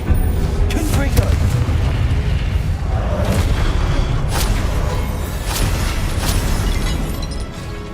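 Confringo spell blasts in the Hogwarts Legacy video game, a run of booming explosions and bursts over a dense, constant battle din, loud throughout.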